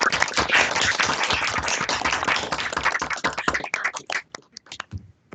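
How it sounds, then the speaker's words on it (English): Scattered applause from seminar participants on a video call after an academic talk, dense clapping for about four seconds that thins into a few sparse, separate claps before stopping. "we can do that celebratory round of applause"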